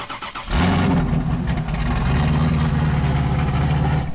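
A Chevy LS3 427 V8 fires up abruptly after a short quiet lead-in, then settles into a loud, steady, rumbling idle that continues close to the listener for the rest of the clip.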